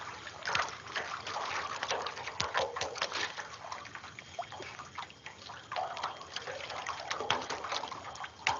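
Water swirling and sloshing in a prospecting pan as alluvial sand is washed for mineral samples, a steady close trickling wash with irregular splashes throughout.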